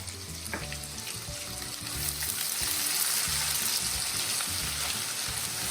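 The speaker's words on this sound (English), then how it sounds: "Now at this point, I'm adding a small onion, finely chopped." Finely chopped onion frying in hot oil for rava upma tempering: a steady close sizzle that swells louder and denser after the onion goes in, then holds for the rest of the clip with no talking.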